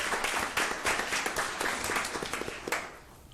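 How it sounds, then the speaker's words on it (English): Applause from the audience at a public school board meeting, a full round of clapping with individual claps standing out, fading noticeably over its last second. "Let's give a big round of applause."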